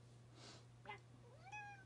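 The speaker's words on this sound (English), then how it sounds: "she meowed right back" A house cat meows twice, close and quiet: a short, breathy first call, then a longer rising-and-falling meow, with a faint low hum underneath.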